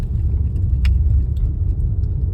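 A Fiat Toro pickup driving off-road over rutted ground, its engine and tyres making a loud, continuous low rumble with a few small knocks and rattles.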